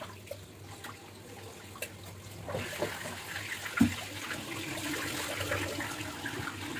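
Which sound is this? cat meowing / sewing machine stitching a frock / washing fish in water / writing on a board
washing fish in water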